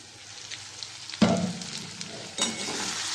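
Prawn curry frying in oil in a pan, a soft background sizzle broken by two sharp bursts of stirring and scraping, close and clear, with no talking.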